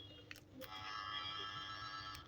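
Faint buzzer tone from an AR-868 cable tracker probe, a thin steady electronic whine that holds for under two seconds after a couple of small clicks, quiet and with no talking.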